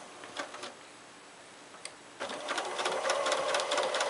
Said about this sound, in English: you just want to let the machine pull the fabric for you so the stitches stay even